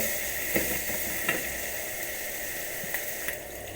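Chicken with poppy seeds sizzles loudly in a hot pan while being stirred, a constant frying hiss broken by several soft scraping strokes.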